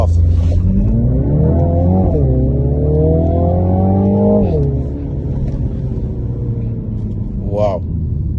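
A 2020 MINI Countryman JCW ALL4 launches hard with launch control. The engine note climbs loudly through the revs, drops at a gear change, climbs again and then settles into a lower rumble, heard from inside the cabin.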